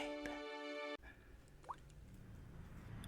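Water dripping as a sound effect: a sharp tone cuts off, then a single clear drop plops in a quiet room, with faint low background hum around it.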